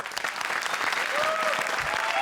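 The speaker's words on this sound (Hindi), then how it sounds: "तो हो जाए जोरदार तालियां हमारे सबसे बड़े कदरदानों के लिए, हमारे जजेस।" Studio audience applause on a televised comedy show, welcoming the judges; dense, steady clapping lasting a couple of seconds, with a faint tonal sound briefly over it.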